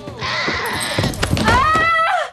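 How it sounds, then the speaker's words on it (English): A goat bleats loudly and close, a long wavering cry that rises and falls, with a short break partway through. "It's a goat."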